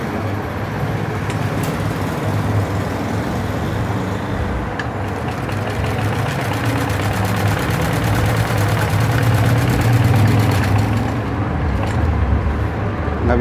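A sewing machine with a needle fault runs on fresh cloth, giving a loud, continuous mechanical drone with a rapid, even stitching rhythm throughout and no talk.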